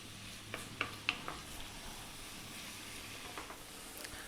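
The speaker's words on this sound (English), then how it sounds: "So that's it, just onions, oil. We're going to be frying away." Chopped onions fry in oil over high heat, giving a quiet, steady sizzle with a few sharp pops and crackles scattered throughout.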